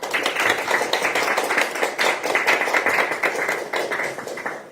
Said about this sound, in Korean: 여기 계신 분들께 이동현 후보를 응원하는 박수를 부탁드립니다